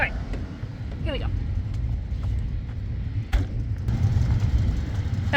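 A 2006 Chrysler 300 with a 5.7 Hemi engine running, a low steady rumble under a person talking, with a few brief clicks and bumps over the engine.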